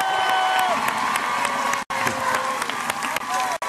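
A studio audience at a live Guadeloupe television show cheers, whoops and applauds steadily for a Martinican guest singer, loud and dense crowd noise with music tones underneath and two brief dropouts.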